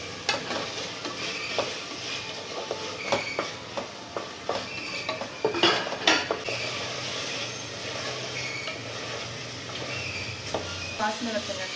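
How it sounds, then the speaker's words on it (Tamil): Cooked mutton goes into a pot and is stirred for biryani, giving repeated close scraping and clinking strokes of a spoon over a soft sizzle, with a voice talking at times. "நம்ம வேக வச்சு எடுத்து வச்சிருக்க மட்டன் வந்து இதில் போட போகிறேன்."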